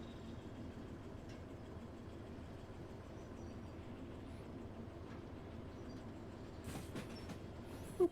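Train rolling along rails in the video game Derail Valley, a steady low rumble and rattle of wagons carrying on throughout at a quiet level, with a brief sharper clank near the end.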